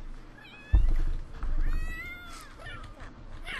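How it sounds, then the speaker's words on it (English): Cats in The Sims 3 meow wildly in several overlapping, wavering cries over a game soundtrack bed, with a sudden loud thump near the start. "Oh god, the cats are going crazy."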